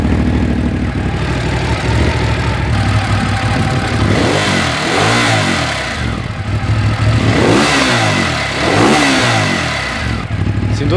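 A Ducati Monster 821 motorcycle engine revs loudly up close, its rough throbbing idle rising and falling through several throttle blips over a continuous mechanical rumble, with no speech.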